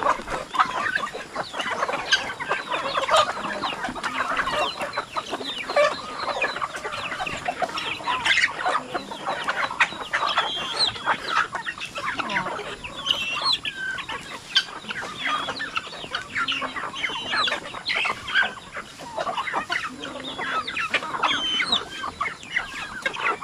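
Chickens and hens cluck continuously around a backyard flock during heavy rain, a busy mix of overlapping clucks and chick peeps at moderate loudness with no talking.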